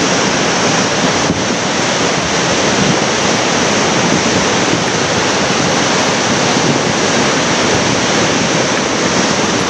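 Coquihalla River rushing in a high-water flood and carrying debris, a loud, unbroken roar of turbulent water close by that stays steady throughout.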